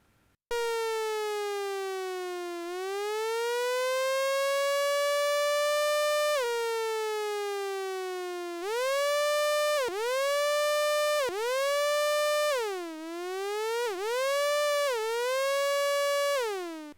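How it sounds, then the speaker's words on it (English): A Roland Alpha Juno 2 synthesizer plays a sawtooth tone with a heavily modulated envelope, producing long swooping, siren-like pitch bends, then a series of sharp repeated stabs that swell and dip, loud and alone. "Let's put a sawtooth on. Let's do something mad with the envelope."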